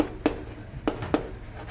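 A few quick strokes of writing on a board in a classroom lesson, heard as three short, distinct scratches close by against a quiet background.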